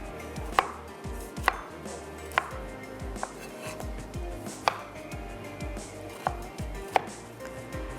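A knife chops tomato on a cutting board, with crisp irregular taps and sharper thuds, some close together and a few spaced out, over a low kitchen background and without speech.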